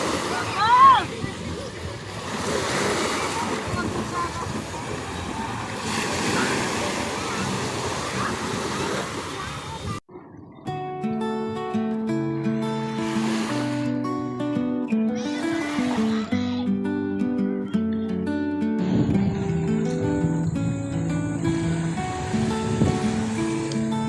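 Ocean surf rolls onto a summer beach as a steady, broad wash of breaking waves, heard under a voice talking. Later the waves are partly covered by music.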